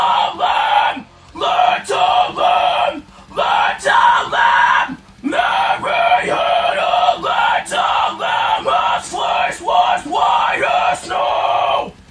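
Loud, harsh screamed vocal phrases held on distinct pitches, sung in bursts with short gaps between them, close and forceful.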